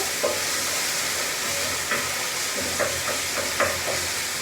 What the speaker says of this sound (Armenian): մի քիչ այստեղ սոխի հետ բաղվի տոմատը